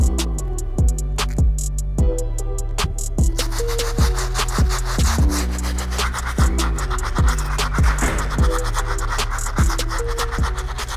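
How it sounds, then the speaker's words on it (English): A stiff bristle brush scrubs the midsole of an Air Jordan 1 Bred Toe sneaker, making repeated close, rough rubbing strokes in a quick, steady back-and-forth rhythm with no talking. "I am done hitting up the midsole with the stiff bristle brush"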